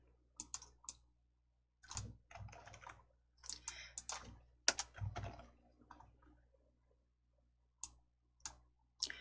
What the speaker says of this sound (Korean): 컨트롤 키 누르시고 F10